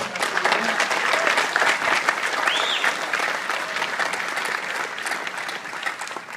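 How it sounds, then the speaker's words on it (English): A convention panel audience at San Diego Comic-Con breaking into a round of applause, dense sustained clapping from a large crowd that fills the whole stretch and slowly tapers near the end. "I think that's a round of applause."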